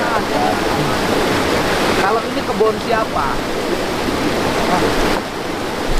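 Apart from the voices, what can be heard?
river flowing strongly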